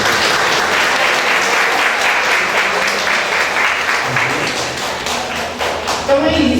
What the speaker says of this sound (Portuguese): quero aqui pedir a todos vocês uma salva de palmas para a Dalila